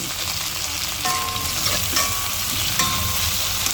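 Tomatoes fry in a pan in home cooking, giving a steady, close, dense sizzle and crackle that runs without a break, with a few faint clinks of stirring.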